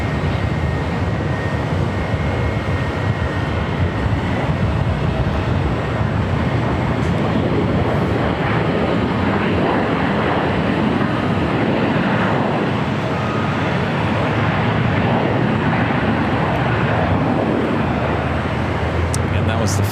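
A Korean Air Airbus A380 takes off from runway 25 left at LAX, a loud, continuous jet roar that fills the whole stretch with steady broadband rumble and no letup.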